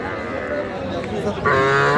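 Calves mooing at a busy cattle market, a steady herd of bovine calls over crowd murmur, with a louder, nearer moo rising toward the end.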